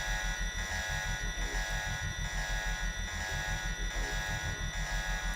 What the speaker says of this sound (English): the klaxon on top of it really evens it out